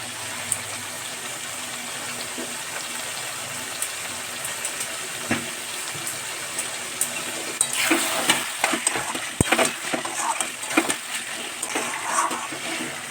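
Mixed vegetables with paneer fry in oil and ghee, stirred with a spoon. A steady close sizzle builds into busier crackling and scraping about halfway through, with several sharp clicks of the spoon.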